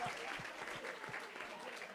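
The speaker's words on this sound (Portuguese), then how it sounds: "Salve de palmas!" A studio audience on a podcast-style education show claps in a brief, fairly quiet round. The patter of many hands is even and continuous, with faint talk underneath.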